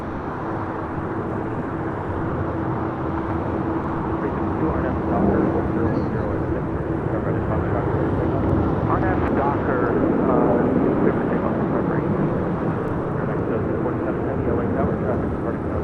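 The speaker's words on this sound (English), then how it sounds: "This is United Airlines 1640 taking off to Houston Intercontinental on a MAX 9." United Airlines Boeing 737 MAX 9 departing LAX for Houston, its continuous jet roar swelling slightly midway, with a voice talking faintly underneath.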